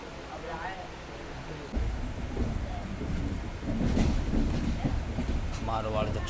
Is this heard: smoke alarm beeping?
no